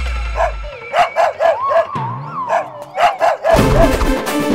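A dog barks in a quick series of sharp, loud, close barks, with a whine or howl in between, in a lively comic street chase.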